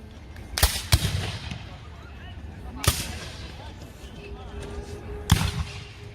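Muskets fire by files at a Civil War reenactment in Greenfield Village, with four sharp, booming reports at uneven intervals, two close together at the start, over a murmur of onlookers' voices.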